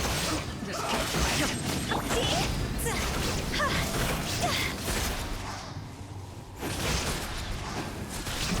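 A stone door mechanism in the video game Genshin Impact grinds and rumbles open in a long, heavy, continuous scrape, briefly dipping and then swelling again near the end.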